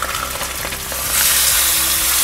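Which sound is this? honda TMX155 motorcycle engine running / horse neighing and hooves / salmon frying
salmon frying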